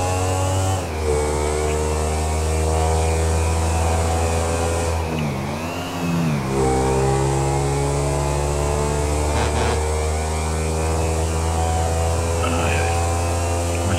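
A motorbike engine in Grand Theft Auto, set in Los Santos, holds a loud steady drone with rising and falling revs, most sharply dipping and swelling near the middle, under no talk.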